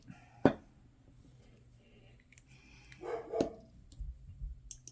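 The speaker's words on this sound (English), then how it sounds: "My dogs are barking" Dogs barking in a house, with a sharp bark near the start and a louder cluster of barks around the middle, amid quiet background noise and faint clicks.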